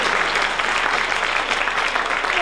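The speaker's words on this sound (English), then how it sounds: "round of applause for this man" A theatre audience bursts into a steady, dense round of applause that fills the whole moment, loud and close, with no voices rising above the clapping.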